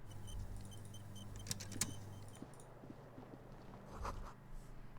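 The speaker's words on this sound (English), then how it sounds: "Hear traffic outside, back in the world again" Traffic from outside drifts in as a low, steady hum in Disco Elysium, with faint rattles and small clicks scattered over it and a brief brighter jingle near the middle. The sound is quiet and distant, and nobody talks.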